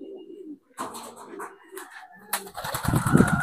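Pigeons cooing and fluttering close by, with soft rustling and a burst of wingbeats or scuffling near the end as one startles another.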